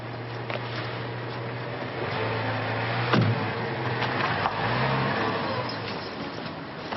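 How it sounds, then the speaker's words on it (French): A car pulls into a garage, its engine idling and revving at a steady mid-pitched hum with a brief thump and scrape partway through, fairly quiet and close, with no talking. "Je vais mettre la voiture au garage."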